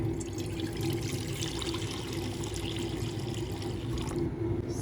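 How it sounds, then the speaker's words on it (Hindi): Water pours into a kadhai while making apple murabba, a continuous splashing, trickling stream close by that runs steadily for several seconds before easing off near the end. "कढ़ाई में पानी ऐड करेंगे।"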